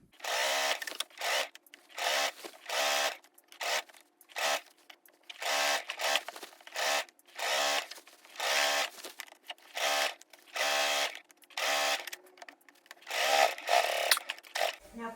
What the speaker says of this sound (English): I'll go to the machine and I'll sew a 1/2 inch seam allowance on each side